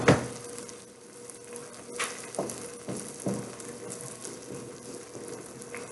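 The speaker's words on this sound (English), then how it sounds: "Mushrooms are going in right now." Mushrooms for risotto sizzle in a hot pan while being stirred, a soft continuous frying hiss broken by several scraping and clacking strokes of the utensil, close by and with no speech.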